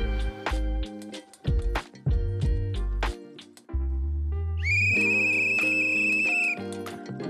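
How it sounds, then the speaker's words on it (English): A final whistle ends a carp fishing match at Mill Lodge: one sustained, shrill, steady tone lasting about two seconds. It follows a stretch of loud, choppy mixed sound. "The final whistle's gone."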